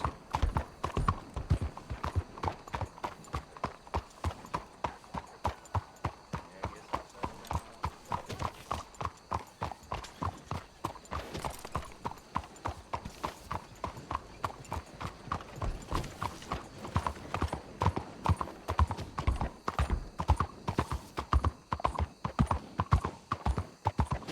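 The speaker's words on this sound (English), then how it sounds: "The sound of horses' hooves on cobblestone?" Horse hooves clatter on cobblestone in the video game Red Dead Redemption 2, a brisk, steady clip-clop rhythm of sharp hard strikes continuing throughout, close and distinct over a faint background.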